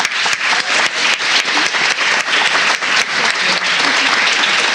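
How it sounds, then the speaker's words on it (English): Loud, full audience applause for students at an art event, dense clapping with a few sharp individual claps standing out, sustained evenly throughout. "So if we could give our students another round of applause."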